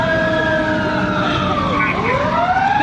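Loud wailing emergency siren close by, its pitch sweeping up and down continuously at a roadside scene in Estill, South Carolina, with voices murmuring underneath.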